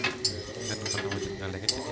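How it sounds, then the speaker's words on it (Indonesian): Metal utensil scraping serabi pancake loose from the side of a pan, a few quick clinks and scrapes at close range, fairly quiet. "Kita korek-korek dari sampingnya supaya kita"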